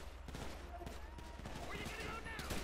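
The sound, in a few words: gunfire shootout in the video game GTA V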